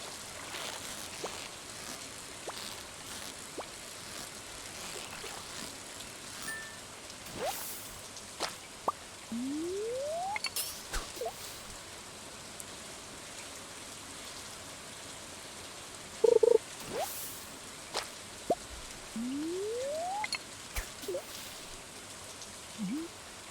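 Gentle rain ambience in the farming game Stardew Valley, with constant soft patter, plus a few rising whooshes and occasional brief game blips over the steady rainfall.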